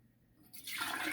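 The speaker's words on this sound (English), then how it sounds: "let's get this whey into here" Whey from homemade nonfat Greek yogurt starts pouring into a container, a quiet start that swells into a steady rushing splash of liquid within a second.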